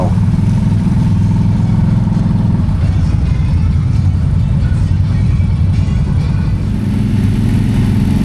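Kawasaki Brute Force ATVs on a group mud ride, a steady mid-pitched engine drone from many machines running close by without a break, with some speech-like sound blended in.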